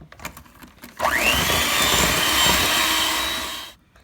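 An electric mixer whirs up to speed and runs steadily through oatmeal cranberry cookie batter for a few seconds, loud and close, before cutting off, with a few bowl knocks just before it starts.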